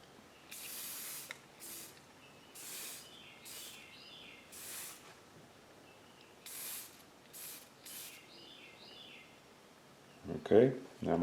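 Short separate bursts of aerosol spray paint, burnt umber dusted lightly onto a carved bust, each puff lasting about half a second and repeated in an uneven rhythm. A clatter and handling noise follow near the end.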